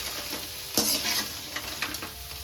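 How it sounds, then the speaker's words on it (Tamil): Crab pieces sautéing in a pan for crab masala gravy: a continuous sizzle broken by sharp spatula scrapes and stirring clatter, close and fairly loud, with no talking. "அவ்வளோதான், நண்டு நல்லா வதங்கிருச்சு."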